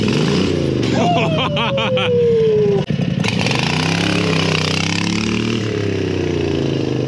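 A 670cc motorcycle engine on a test ride revs hard and shifts, the pitch climbing and dropping with crackling pops and snaps, loud and close, under excited voices and wind noise.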